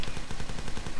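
Shots ring out in The Last Stand video game, a rapid run of repeated gunfire bursts at a steady pace, close and fairly loud, with no other sound around them.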